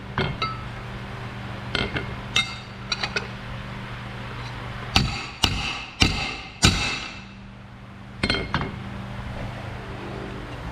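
Ball peen hammer striking metal on a 1967 Chevelle roll cage project, a scattered series of sharp, ringing clanks and taps, several coming in a quick cluster mid-way, with quieter workshop noise between hits.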